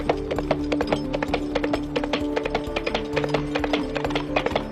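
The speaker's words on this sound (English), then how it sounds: "In this case, I actually used horse hooves." Real horse hooves struck as Foley clip-clop, a steady rapid train of close, crisp knocks on a hard surface, fairly loud and continuous, with a low humming tone running underneath and no talk.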